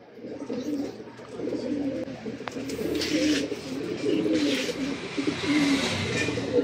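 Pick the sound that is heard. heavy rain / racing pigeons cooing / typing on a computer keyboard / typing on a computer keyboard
racing pigeons cooing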